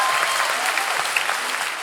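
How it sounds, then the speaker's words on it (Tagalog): Live theater audience in a hall with balcony and orchestra seating applauding steadily, a dense even wash of clapping throughout with no gaps. "Palakpakan niyo sarili niyo."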